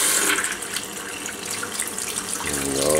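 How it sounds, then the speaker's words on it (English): Tap water gushing steadily under household faucet pressure through a hose into a small sealed magnetic Tesla turbine generator, a continuous close hiss and splash with a shift in tone near the end. "Okay, we just hook this up to the faucet, water pressure."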